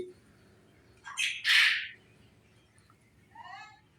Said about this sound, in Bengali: এর পাশাপাশি রয়েছে দুবাই জাম্বু কোয়েল পাখি।